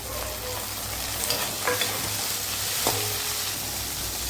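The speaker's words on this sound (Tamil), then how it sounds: "எல்லாம் நல்லா வதங்கி வதங்கிடுச்சு தக்காளி போடுறேன் ஒரு மூணு தக்காளி" Three tomatoes added to sautéed ingredients frying in a pan, a loud, continuous sizzle up close with a few spatula scrapes and clicks, no voices.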